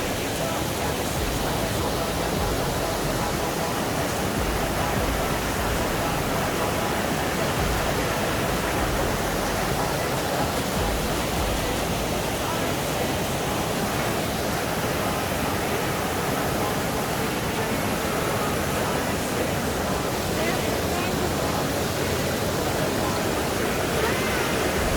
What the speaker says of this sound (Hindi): चलिए दिखाता हूँ कि कैसा वाटरफॉल है, क्या है।